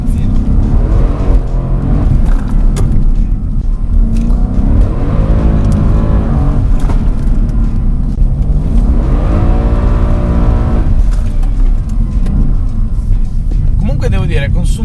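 A Mercedes-AMG C63 S engine pulls hard under full throttle, its loud, continuous roar rising in pitch through two long sweeps. A person talks over it throughout.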